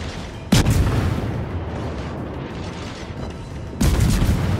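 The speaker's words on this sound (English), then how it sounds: "Now he's angling, so we'll fire HE." A Z-23 destroyer in World of Warships fires HE shells. Two heavy booming salvos sound a few seconds apart, each a sudden loud blast with a rumbling tail, over a continuous low game-engine drone.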